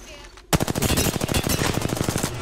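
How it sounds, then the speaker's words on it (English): Rapid automatic gunfire in the Apex Legends battle royale game bursts in after a brief quiet start, a dense, loud stream of repeated shots continuing to the end. "I'm getting shot by somebody else"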